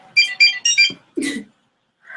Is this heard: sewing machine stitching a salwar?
no